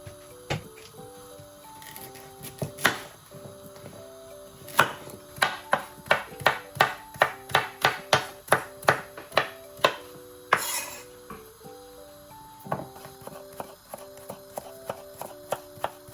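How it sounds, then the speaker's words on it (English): Knife cutting peeled carrots into small pieces on a board, a run of sharp, fairly close chops in quick rhythmic bursts with pauses between, over faint background music. "Here I've got some carrots. I'm going to peel them and then cut them into small pieces."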